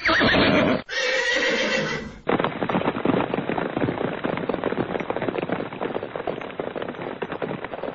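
A horse neighs loudly in two close, shrill bursts, followed by several seconds of crackling, popping noise like firecrackers or rapid bursts.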